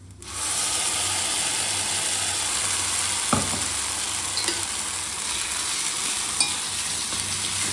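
Tempering for chutney fries in a hot pan, giving a continuous close sizzle and crackle with a few sharp clicks and taps of stirring scattered through it.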